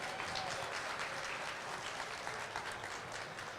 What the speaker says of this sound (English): How about a nice round of applause for the fine folks at Food City?